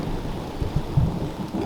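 Outdoors as rain begins, low thunder rumbles briefly beneath a soft steady hiss of falling rain, a short dull burst near the middle.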